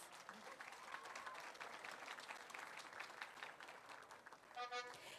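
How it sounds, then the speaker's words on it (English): Sustained applause from a graduation ceremony audience honoring a commencement speaker, a steady dense patter of many hands clapping at a moderate distance, with a brief electronic tone near the end. "Let's give her a round of applause."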